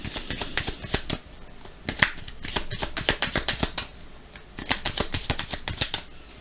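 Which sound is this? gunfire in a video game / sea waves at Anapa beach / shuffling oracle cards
shuffling oracle cards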